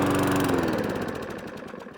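A lawnmower engine with a carburetor or fuel problem fires up and runs roughly for about a second, then sputters and fades as it dies, close and fairly loud, with no talking.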